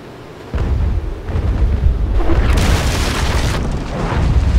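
Grape shot cannon fire from a sailing warship in the naval battle game Naval Action, heavy booming blasts rolling into a sustained loud rumble, near and powerful, with no speech.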